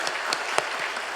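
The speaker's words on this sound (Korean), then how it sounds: "자리에 일어나시면 박수로 환영하겠습니다." A church congregation claps to welcome new members during a Sunday service. The applause is a brief, steady patter of many hands, with no talking over it.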